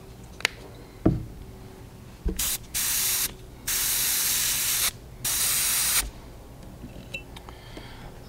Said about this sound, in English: let's just give this top half again a coat of pearl lime green right over the top of that yellow.